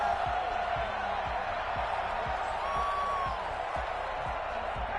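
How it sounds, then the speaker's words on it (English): Stadium crowd applause and cheering in the football video game Madden 21 on PS5, a steady broad roar sustained throughout with faint thumps underneath. "How about some applause for the defense there?"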